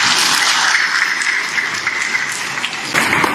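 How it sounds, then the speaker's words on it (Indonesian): Audience applause at a motivational seminar marking a first anniversary, a dense, steady wash of many hands clapping for the full length, loud and close, with a brief swell near the end. "Tepuk tangan kepada semua."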